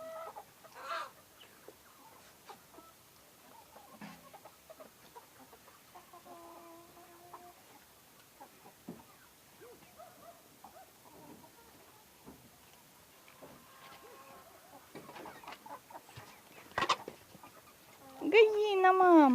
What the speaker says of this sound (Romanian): Găina